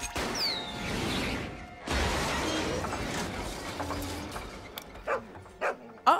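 A dog from the 2000 film How the Grinch Stole Christmas gives a few short barks and whimpers near the end, after a stretch of dense, noisy movie soundtrack.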